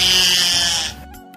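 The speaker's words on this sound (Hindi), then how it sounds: "तुम्हारे साथ ये बकरियां किसकी हैं?" A single drawn-out bleat from a neighbour's herd of goats, loud and close, fades out after about a second with no talking.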